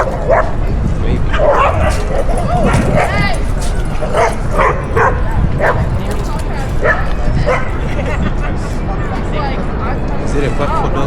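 Dogs bark and yip repeatedly at a dog park in Madison Square Park, Manhattan, loud and close, with occasional whimpers over a steady hum of people chatting and city background.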